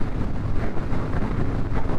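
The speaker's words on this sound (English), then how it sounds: "There's a lot of headwind." Strong headwind buffets the microphone while riding a Harley-Davidson motorcycle with 14-inch ape hanger handlebars south on Highway 280, a loud continuous rushing roar with uneven gusting pulses.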